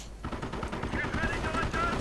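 Machine gun fire rattles in rapid bursts during a Company of Heroes match, mixed with other battle noise and a steady stream of talk over it.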